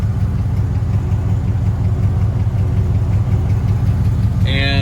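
An idling Dodge Diplomat engine with a ticking fault, a loud, steady low rumble with a faint rapid tick buried inside, heard up close without speech, and a brief tonal beep near the end.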